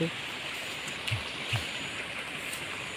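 Heavy rain pours down outdoors, with rainwater rushing and flowing in a steady, dense wash of noise. A few soft knocks break through, and no one speaks.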